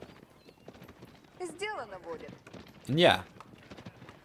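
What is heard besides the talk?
horse archers galloping in video game Age of Empires IV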